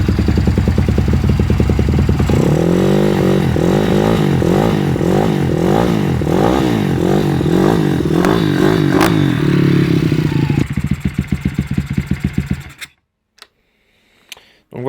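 A YCF SP3 road-legal motorcycle cranks over and fires up, its single-cylinder engine settling into a loud, rapid, pulsing idle with a few blips; near and dominant before cutting off abruptly, followed by brief clicks and near silence.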